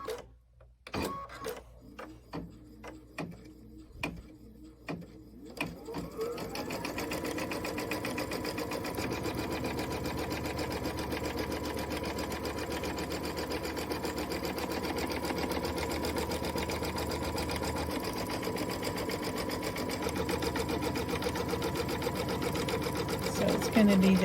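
A sewing machine stitches a quilt-along project, starting with a few short bursts before settling into a long, steady run that continues to the end, close and fairly loud.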